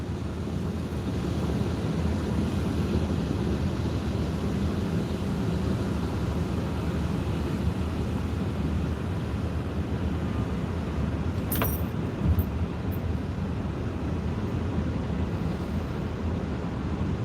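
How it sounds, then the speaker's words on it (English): An enclosed truck passes on the road at a state trooper inspection point, a steady broad engine and tire rumble with wind noise that swells slightly near the middle, heard alone with no talk. "Here comes a enclosed truck now."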